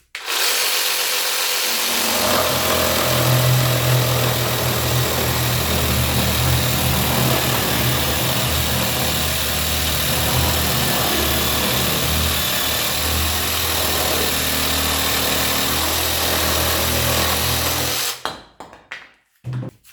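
Parkside PSSSA 20-Li A1 cordless sabre saw cutting with a loud, steady motor drone and rough sawing texture for about eighteen seconds, then stopping abruptly.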